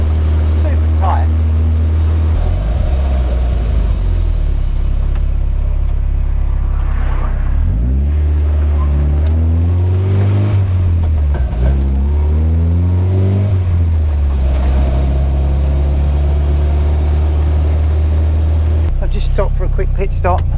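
MK Indy RX5 sports car with a Mazda five-speed gearbox on a test drive: a loud, steady engine drone with a deep rumble throughout, rising and falling in pitch as it revs, while someone talks over it.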